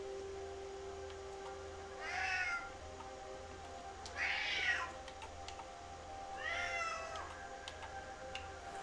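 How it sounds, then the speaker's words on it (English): A pet cat named Roast Beef meows three times at roughly two-second intervals, drawn-out and moderately loud, over a steady low hum and faint ticking in a quiet room. "That was my cat roast beef in real time."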